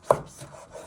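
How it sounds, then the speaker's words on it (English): A knife chops tomatoes on a cutting board with a single crisp chop, then quieter follow-through scraping, close and alone without talk. "you want to chop your tomatoes in half"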